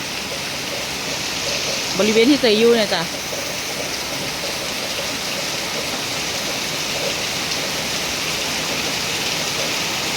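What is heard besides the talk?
heavy rain falling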